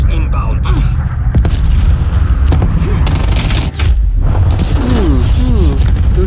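A cruise missile strike in Call of Duty Black Ops Cold War lands on the Garrison map, loud booming explosions layered with rattling gunfire and voices throughout a dense, continuous battle din.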